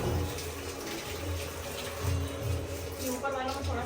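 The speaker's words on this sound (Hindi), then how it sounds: "अब पौधों को पानी देना ज़रूरी हो गया है" Water runs from a tap for watering plants, a steady rushing flow that lasts throughout and is fairly loud and close, with a low rumbling hum underneath.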